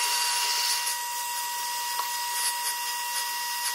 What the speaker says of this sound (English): So yes, I have my rev air and I'm gonna just go ahead and go.